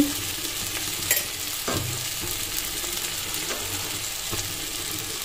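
Chopped tomatoes sizzle steadily in a pan as they are stirred by hand, with occasional soft scrapes of the spoon over a constant frying crackle. There is no talking.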